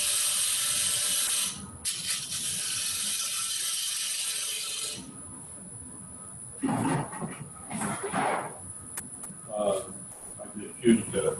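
A wooden bowl blank with a small tenon clamped into a wood lathe chuck: loud continuous ratcheting clicks at first, then quieter intermittent mechanical clicks and rattles with a voice talking in between.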